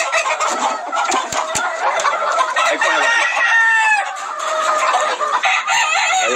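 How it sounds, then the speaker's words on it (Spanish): Chickens cluck and squawk loudly up close, with rooster calls rising among a busy farmyard chorus of fowl. "Muy bonito gallo este."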